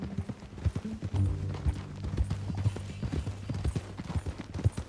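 Hooves of horses in the western game Red Dead Redemption 2, a steady clip-clop at a walking pace throughout, moderately close, with a faint voice in the background.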